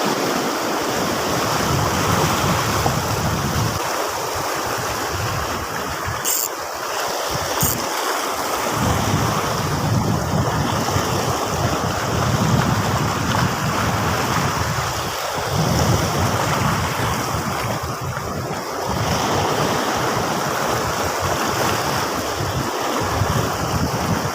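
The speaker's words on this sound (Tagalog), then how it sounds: "Kahit na malakas yung alon, malinaw yung tubig" Loud, continuous roar of strong sea waves and surf at a beach, washing and crashing steadily, with wind buffeting the microphone.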